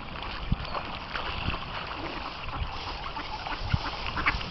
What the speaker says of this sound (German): Wenn die Enten schwimmen,